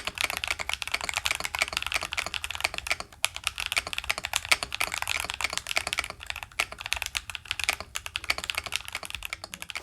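Rapid, continuous clacking of keys on a cheap Temu mechanical gaming keyboard, close and crisp, with brief pauses in the steady typing rhythm.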